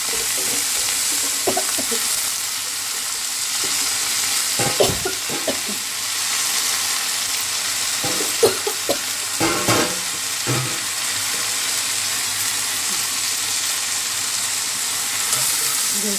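Punarnava and amaranth greens from the garden being stirred and fried in a pan, a steady sizzle under intermittent clattering spoon strokes against the pan, with no talking.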